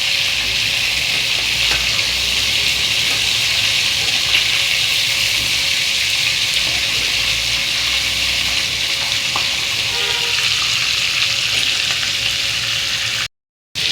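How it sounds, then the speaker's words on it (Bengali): Chicken roast pieces fry in hot oil with a loud, continuous sizzle, close and unbroken, until it cuts out abruptly just before the end. "তো দর্শক, রোস্টগুলো ভাজা হয়ে গিয়েছে"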